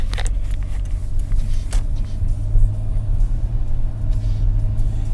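A van rolls steadily down a country road, its low engine and road rumble continuous and close throughout, with no talking.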